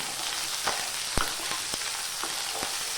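Lengthwise-sliced medium onion frying in hot oil in a pan, a constant soft sizzle broken by a few sharp scrapes and clicks of a stirring spoon, no voices.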